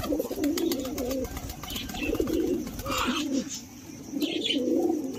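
Pigeons coo repeatedly in low, throaty rolls, close and clear, with soft outdoor background and faint higher chirps.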